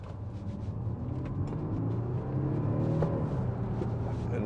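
A 2013 Audi SQ5 3.0 BiTDI Tiptronic quattro on a test drive, its diesel engine a low, steady rumble heard from inside the cabin, rising slightly in pitch and loudness as it accelerates along with road noise.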